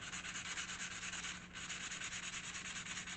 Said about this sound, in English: I'm using 800 grit silicone carbide sandpaper.